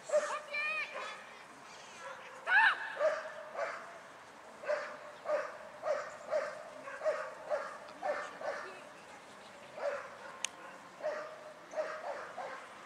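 A dog yips and barks in a repeated rhythm during a dog training session, fairly distant and under a faint room background, with occasional voices.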